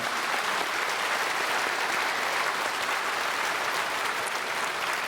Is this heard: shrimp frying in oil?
no